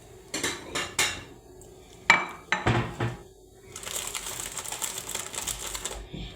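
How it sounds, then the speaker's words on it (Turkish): A ceramic plate is lifted out and set down in a home kitchen during pudding-in-a-glass preparation, giving several sharp clinks and clatters, followed by a softer continuous rustling scrape. "Ben bir tabak alalım."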